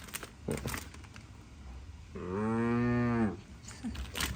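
A person imitates a cow with a single long, realistic moo lasting about a second, set among faint scattered knocks and room noise.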